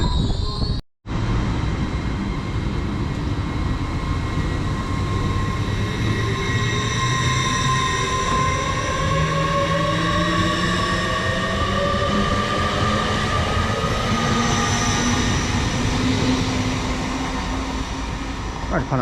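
A Class 387 electric unit, 387301, pulls into Stevenage station, its steady rolling rumble and rising motor tones carrying for the whole stretch. Platform ambience and distant talk sit beneath it.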